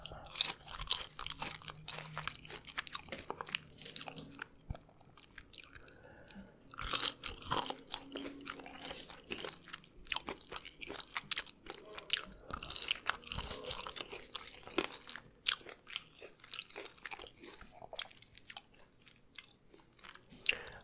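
Close, crisp crunching and moist chewing as crinkle-cut fries from a food court are bitten and eaten, irregular bites over about twenty seconds with no talking.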